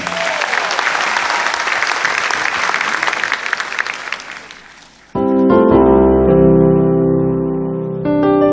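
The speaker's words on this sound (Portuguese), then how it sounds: "Mais uma salva de palmas para ela" A concert audience applauds a singer with dense, loud clapping that fades after about five seconds, then gives way abruptly to music.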